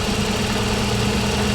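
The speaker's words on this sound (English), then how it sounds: "take a look at that beautiful 3-liter V6" Nissan 300ZX 3-liter V6 idling, heard close and steady as a loud, even rumble with a slight rhythmic pulse and no talk.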